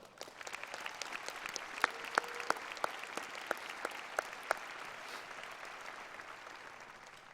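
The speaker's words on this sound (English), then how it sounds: "Can give them a round of applause." Audience at a high school graduation ceremony for the class of 2019 applauding steadily, a soft wash of many hands clapping with a few sharper individual claps standing out, moderately distant and sustained throughout.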